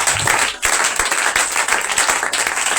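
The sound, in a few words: congregation clapping and acclaiming Jesus Christ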